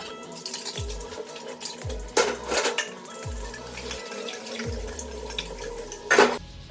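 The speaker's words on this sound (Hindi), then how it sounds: "अब जब तक ये खाना खा रहे हैं मैं बर्तन धो लेती हूँ" Dishes, pots and utensils being washed in a kitchen sink under running water, with steady tap flow broken by repeated clinks and clatters of metal vessels and a louder clang near the end.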